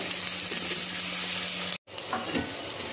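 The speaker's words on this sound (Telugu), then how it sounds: "ఉల్లిపాయలు అయితే వేసేసుకుంటున్నాను కొంచెం ఫ్రై అయ్యాక" Onions fry in hot oil in a pan, giving a steady, close, loud sizzle that cuts out for a moment and then resumes.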